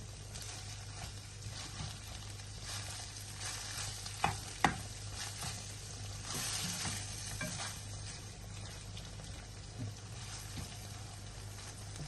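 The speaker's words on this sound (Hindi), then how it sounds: "नमक के साथ इसको थोड़ा सा और फ्राई करेंगे।" Kidney pieces frying with salt in a pan for gurda masala, a constant low sizzle with scraping stirs throughout and a couple of sharp utensil knocks midway.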